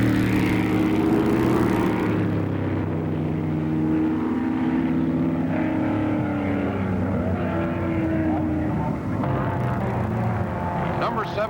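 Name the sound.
1965 Grand Prix race cars, McLaren Ford and Lotus 40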